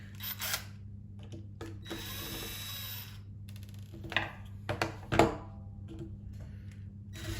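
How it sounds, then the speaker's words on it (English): A power drill whirs in several short bursts with pauses between, close by, mixed with clanks and handling noises. "Let's get the drill, that's easy."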